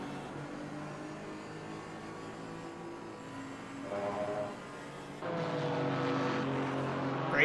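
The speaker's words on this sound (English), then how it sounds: "Great sound from all of these cars as well" GT4 race cars lap Monza in a racing game, engines droning with rising and falling tones as cars pass, growing louder toward the end.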